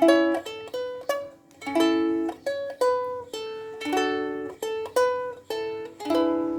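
A plucked ukulele plays a song introduction, a bright melodic line, notes ringing out one after another in a steady rhythm, close and clear with no voices.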